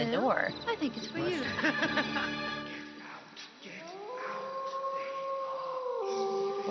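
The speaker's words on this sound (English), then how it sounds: "That was just a dog howling." A dog howling in the Night Trap video game, a long, sustained, wavering howl rising after a stretch of speech and game sound, with talking heard before it.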